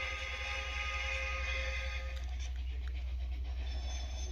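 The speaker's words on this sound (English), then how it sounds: "Hear the whistle again." A train in the video game Trainz Simulator 2 rumbles steadily while a sustained whistle tone sounds for the first half, then fades, leaving the rolling rail noise.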